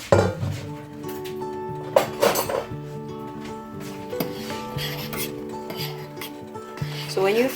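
Basmati rice is stirred in a cooking pot for spinach coconut rice, giving soft rubbing and scraping with light clinks of utensil on metal, a few brief louder knocks, and a steady tonal hum from the kitchen underneath.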